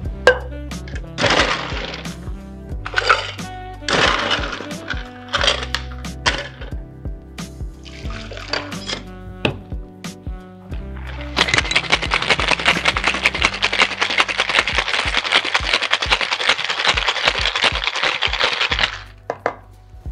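A Singapore Sling with grenadine is shaken hard in a cocktail shaker, giving a dense, steady rattle for several seconds after a few short knocks and clinks, with music playing beneath.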